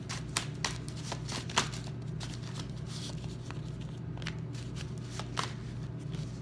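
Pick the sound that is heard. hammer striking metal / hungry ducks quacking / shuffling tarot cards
shuffling tarot cards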